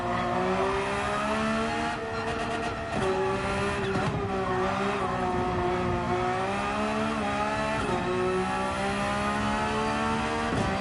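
A Porsche race car in the video game Gran Turismo 7 drives continuously, its engine tone rising and falling with revving and gear changes, loud and close with some tire noise and no talking.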